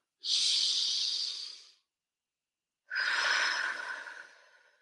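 A person takes a deep breath during an emotional freedom technique session, one long close inhale followed after a pause by a long slow exhale.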